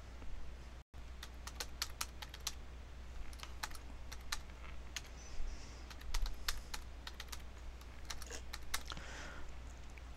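A new password is typed on a computer keyboard as a run of quiet, close, irregular key clicks with brief pauses, and no talking.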